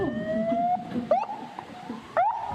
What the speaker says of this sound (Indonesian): Diawali dengan memeriksa suara sirene